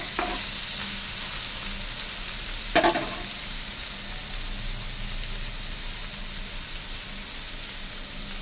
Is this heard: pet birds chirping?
no